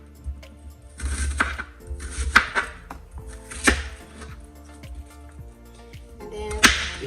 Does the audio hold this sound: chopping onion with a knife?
yes